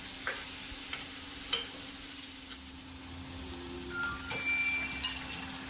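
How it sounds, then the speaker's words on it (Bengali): Chopped onions fry in hot oil in a pan, giving a quiet, steady sizzle with occasional soft stirring clicks and scrapes, and no speech. "তেল গরম হলে কুচনো পেঁয়াজগুলো তেলে ছেড়ে দিলাম। এরপর পেঁয়াজগুলো লাল লাল করে ভেজে নেব।"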